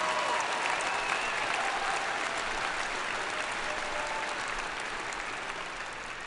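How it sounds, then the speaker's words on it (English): Sustained, dense applause from a large commencement audience fills the space, steady and full throughout before easing slightly toward the end, with no voices standing out. "Give them a round of applause."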